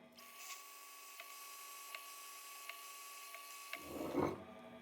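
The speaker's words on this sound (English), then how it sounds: "Now I'm going to drill through from this side" A drill bores a hole into the metal explosion chamber of a small engine, a steady faint whine with regular light ticks roughly every 0.75 seconds, ending in a brief louder clatter.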